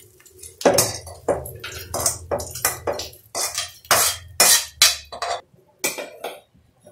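Fried curry leaves moved from a pan onto a plate, with a run of close metallic clinks, scrapes and taps of a utensil on cookware, coming in quick irregular bursts.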